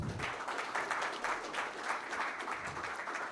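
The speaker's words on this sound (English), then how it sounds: "So thanks to the great panelists. A big round of applause." A seminar audience applauding panelists after a panel discussion, a fairly faint, moderate-sized burst of clapping with audible individual claps, steady for a few seconds and heard somewhat distant.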